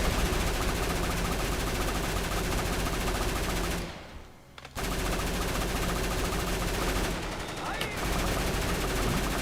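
Rapid machine-gun fire rattles almost without pause in Red Alert 2 as units attack an Allied war factory, cutting out briefly twice before the loud bursts resume.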